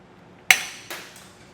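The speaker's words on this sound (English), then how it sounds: "Now I'll go ahead and get all these weld nut wires cut off." Wire cutters snip weld nut pull wires during a Blue Ox base plate install on a 2023 Jeep Gladiator, giving two sharp, close metallic clips a moment apart with no talking.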